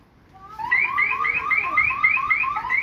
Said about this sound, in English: now he's pressed the alarms off